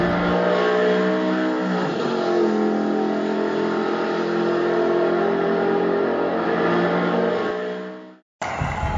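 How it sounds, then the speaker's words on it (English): A roaring, revving car engine accompanies a Hot Wheels 1/64 Corvette's qualifying run on a race track. It holds a loud, steady whine for about eight seconds, then cuts off abruptly before a brief burst resumes, with no talking. "In the gate, driving the Corvette for Team Madness Motorsports is Tux McBee"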